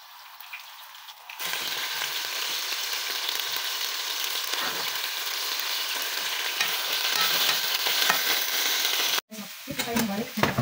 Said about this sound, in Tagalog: naglagay na tayo ng oil sa pan at ipiprito natin yung karne